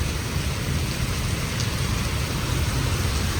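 Heavy rain pours in a dense, steady roar with no letup, loud and close, with no voices.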